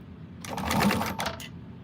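A sewing machine top stitching a sling, a close, rapid whirring run of stitches lasting about a second, slightly uneven in speed and trailing off as it stops.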